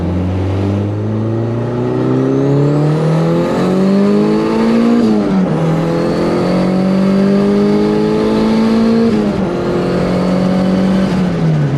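A Honda fitted with a turbocharged B20V engine accelerates hard in second gear, its loud, steady engine note climbing in pitch, dipping briefly, then climbing again with a continuous turbo-laden drone and no talk.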